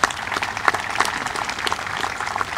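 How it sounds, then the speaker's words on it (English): Applause from a gathered audience at a Memorial Day commemoration, a lively patter of individual claps that is fairly close and steady for a couple of seconds. "Want to give them a round of applause."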